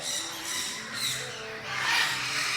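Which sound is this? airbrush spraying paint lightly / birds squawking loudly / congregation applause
birds squawking loudly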